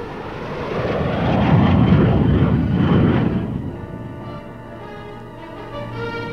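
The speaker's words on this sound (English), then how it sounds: "Those jets didn't materialize out of thin air." Military jet aircraft flying over a Cold War atomic cannon and missile exercise, a loud roaring rush that swells to a peak and then fades as it passes into the distance.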